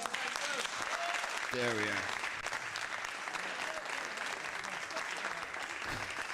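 Recorded applause plays back during a live stream, a steady wash of clapping throughout with brief speech over it.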